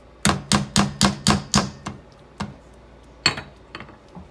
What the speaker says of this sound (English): Don't take my potato masher. I use it so much for everything.